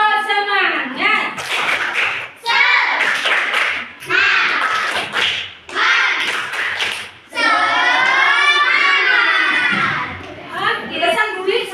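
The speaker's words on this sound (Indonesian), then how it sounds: "Oke, tepuk semangat." A third-grade class chants a rhythmic clapping cheer together, children's voices rising and falling in short bursts over sharp, evenly spaced hand claps, loud and close throughout.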